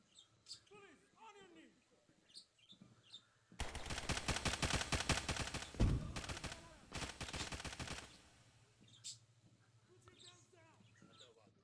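Rapid automatic gunfire from the video game Zero Hour rattles in a dense, loud burst of about four seconds, with people talking before and after it.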